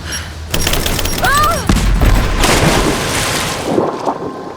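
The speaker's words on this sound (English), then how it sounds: "Grenade out!" In the Rise of the Tomb Raider video game, a grenade explodes amid bursts of gunfire, with loud booms and a scattered crackle of shots in a chaotic combat mix, plus brief voice fragments.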